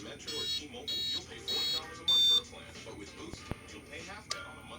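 A Super Bee LiPo alarm beeps on power-up of a Losi 5ive RC car, giving four short, shrill electronic tones in a steady series, each one louder than the last, over a faint background hum.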